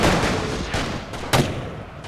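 Rifles fire from trenches in a First World War video game, a few sharp reports ringing out over a constant low rumble of battle.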